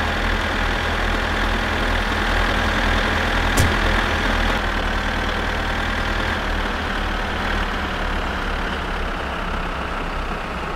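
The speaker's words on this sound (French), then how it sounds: "Qu'est-ce qu'il est infernal ce tracteur." A tractor engine idles in the video game My Summer Car with a loud, steady, rumbling drone that never lets up, marked by one brief sharp click partway through.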